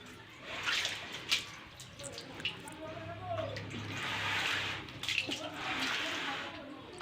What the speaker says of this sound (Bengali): তো দেখো কীভাবে পানি ঢালছি আমি কলে